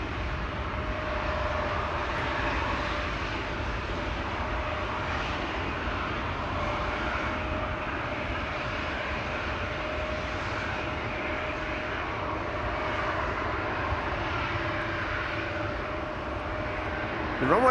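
A KLM airliner at Amsterdam Schiphol Airport produces a broad, steady jet roar with a faint tonal whine, sustained and fairly distant across a drying runway.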